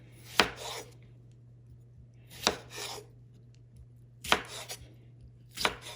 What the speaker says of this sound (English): I'm obviously quartering my taters